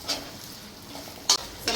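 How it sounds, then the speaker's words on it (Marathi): Onion fries gently in a pan with ginger and garlic, a low steady sizzle broken by a few sharp spoon scrapes against the pan as it is stirred toward browning. "कांदा पण चांगला शिजवून घ्यायचा आहे ब्राऊन होईपर्यंत।"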